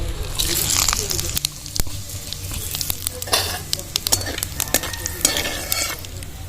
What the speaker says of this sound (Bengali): ফোড়নের জন্য চারটে এলাচ দুটো দারচিনি গোটা জিরে আর একটা শুকনো লঙ্কা দিয়ে দেবো